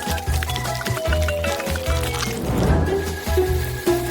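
Liquid poured into a glass in a home kitchen, a steady trickling fill that runs under rhythmic background music.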